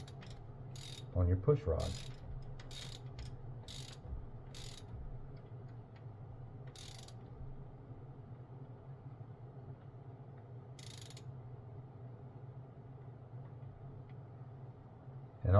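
Ratcheting socket wrench clicking in short bursts as it tightens a rocker arm nut on a Square Body Chevy K10 engine, close and fairly quiet, with someone speaking briefly.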